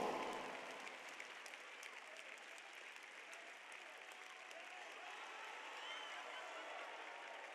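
Church congregation applauding in a worship service, a dense, steady wash of clapping that holds at an even level throughout, with no talk rising above it.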